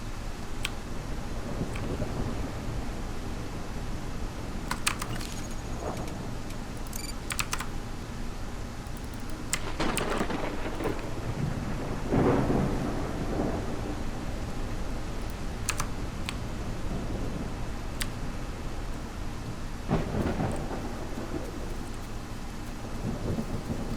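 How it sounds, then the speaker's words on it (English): Steady rain hiss with rolling thunderstorm rumbles, heaviest around the middle, from the dinosaur survival game The Isle Evrima, with keyboard typing clicking throughout. "The fucking rain sucks on this server."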